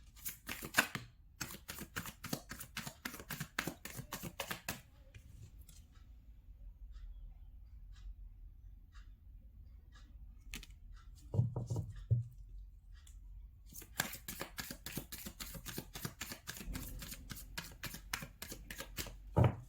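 Tarot cards shuffled in rapid bursts of dense crisp riffling, a quiet pause in the middle and then more riffling near the end, close and fairly soft.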